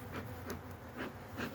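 Honey bees hum around an open hive on a cloudy, cool day, a faint steady drone with soft swells as individual bees pass close.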